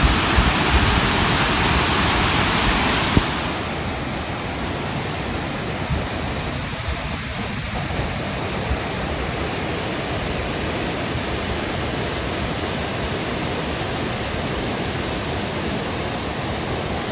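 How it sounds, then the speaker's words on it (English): Grand Falls, where a small creek in Missouri spills over a ledge, roars as a continuous broadband rush of falling water, loud and close, with a brief bump in the sound early on and then steady. "This is Grand Falls, where a little creek that we drove right by, that's where it runs into down here."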